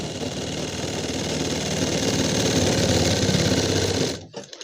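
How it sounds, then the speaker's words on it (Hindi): A sewing machine stitches a trouser seam, running close and loud in one continuous rapid mechanical chatter for about four seconds before stopping abruptly, followed by a few faint clicks. "फिर यहाँ पर सिलाई लगा देना है"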